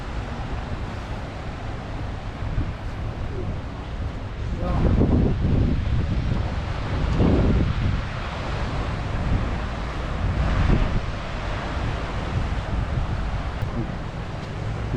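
Sea breeze blowing steadily across a microphone on the Casablanca coast in Morocco, a loud continuous rush that swells in gusts, with possible surf underneath and no clear speech.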